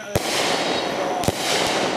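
Two sharp fireworks bursts go off in quick succession near the start and again later, a double shot cracking loudly over a steady crowd hubbub at an outdoor preshow display.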